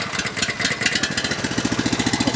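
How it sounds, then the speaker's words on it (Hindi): A Honda 12 HP engine on a backpack rotary power tiller cranks on its self-start and catches, settling into a loud, close, rapid chugging idle with no talk over it. "ये होंडा का 12 HP का ये इंजन है। इसके अंदर सेल्फ स्टार्ट भी है, देख सकते हैं।"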